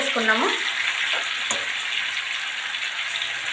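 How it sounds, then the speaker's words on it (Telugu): Chicken legs frying in a small amount of oil, a close, steady bright sizzle and crackle that carries on throughout, with a short voice at the very start. "కొద్దిగా ఆయిల్తోనే మనం డీప్ ఫ్రై చేసుకుంటాము"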